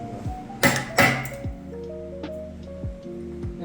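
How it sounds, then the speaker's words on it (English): Two sharp metallic hammer blows strike close together on a rear wheel bearing of a BMW E90 328xi, followed by lighter ticks and faint ringing metal. "I'll hammer the other side off, and then we'll hammer this out"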